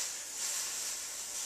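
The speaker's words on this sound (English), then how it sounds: "I'm going to put that over the name there, and with it, hot iron." A hot iron pressed onto a football shirt to steam off the glue holding a printed name gives a steady, close, bright hiss that lasts throughout, with no one speaking.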